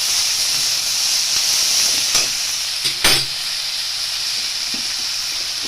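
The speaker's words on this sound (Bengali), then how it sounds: "আর এই কাঁচা লঙ্কা ফোড়ন দিয়েছি এটাকে ভালো করে ভেজে নিতে হবে" Green chillies and black cumin seeds crackle in hot tempering oil with a loud, bright hissing sizzle, punctuated by a couple of sharp spits and stirring clicks.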